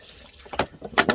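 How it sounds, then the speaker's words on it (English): Water splashes onto a potted begonia in a few short, close bursts, the last two pours strongest near the end. "I'm going to give this a really good water."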